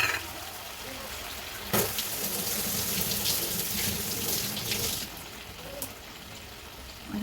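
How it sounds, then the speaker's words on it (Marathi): Water splashes into a pan of cooking masala for a pumpkin bhaji, bursting into a loud hiss that settles into a steady bubbling sizzle, close and continuous. "त्याच्यामध्ये थोडंसं पाणी टाकूया."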